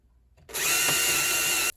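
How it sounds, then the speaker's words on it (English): A power drill whirs steadily for just over a second, boring a hole in a wooden tenon, starting and stopping abruptly after a brief quiet moment. "drill the hole in the tenon"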